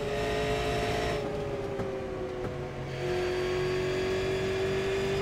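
Race cars circle Bristol Motor Speedway in the iRacing sim, a steady, loud, whining engine drone that holds near one pitch and briefly dips and swells.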